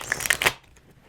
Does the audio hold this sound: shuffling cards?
yes